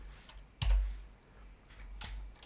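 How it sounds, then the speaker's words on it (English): Typing on a computer keyboard while entering an Excel SUM formula, a few sparse, faint key clicks with one sharper tap, quiet room in between. "let's type it in properly this time"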